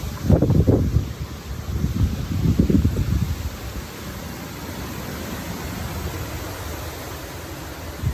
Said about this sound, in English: You can see trees are thrashing around a little bit. Comes another gust.